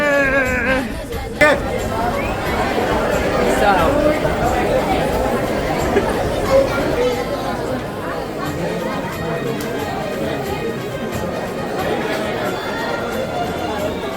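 A dense crowd of devotees chattering at the Ekvira temple in Lonavala, a steady close babble of many overlapping voices with footsteps and bustle throughout, loud and continuous.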